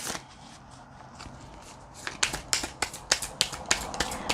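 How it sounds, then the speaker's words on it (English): Tarot cards being shuffled by hand, a soft riffling that turns into a steady series of sharp, close slaps as the cards are cut and tapped together. "I am shuffling in my hand for a little bit more information to make this a 5-card spread"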